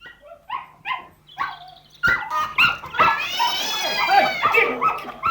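In a dramatised audiobook scene a dog barks and yips in a rapid flurry, close and loud, mixed with whimpers and a person's agitated shouting.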